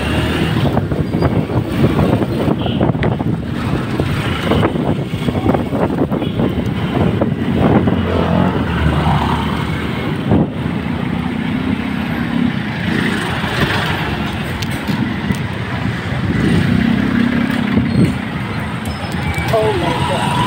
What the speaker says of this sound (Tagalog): Sobrang traffic dito. Halos mga motor na gamit.